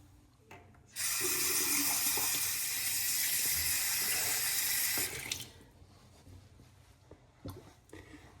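Bathroom tap running into a sink for a rinse after a shave, a steady close gush lasting about four seconds before shutting off, followed by quiet handling noises.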